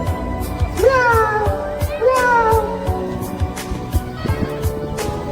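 A person voices two drawn-out, sliding meows in imitation of a cat, followed by a shorter third, over clattering background noise.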